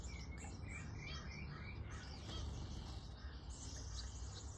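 Small birds chirp in a busy aviary, quick high twitters and tweets repeating over a steady background hum, close and fairly clear with no talking.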